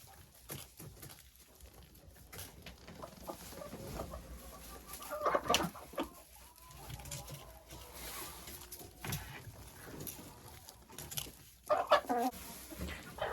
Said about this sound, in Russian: еще третий вольер, где у меня сидят молодые куры